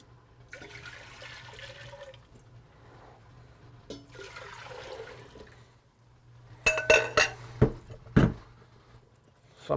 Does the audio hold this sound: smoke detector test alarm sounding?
no